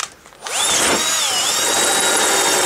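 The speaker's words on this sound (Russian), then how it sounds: "не смотрите, что шуруповер" A cordless screwdriver drills into an aluminium padlock, a Tokoz 112, with a loud, steady high-pitched whine that sets in after a brief quiet start and holds continuously with a slightly wavering pitch.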